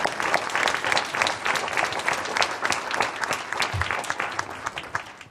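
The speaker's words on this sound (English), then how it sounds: "Let's give him a big round of applause." Audience at a city mayor's public evening event giving a departing city controller a big round of applause: loud, dense, sustained clapping from a room full of people, with faint crowd murmur underneath and no speech on top.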